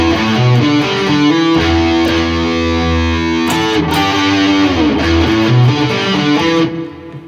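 A distorted electric guitar slowly plays a song's intro riff, with clear sustained notes and bends in a measured rhythm, loud and alone, ringing out at the end.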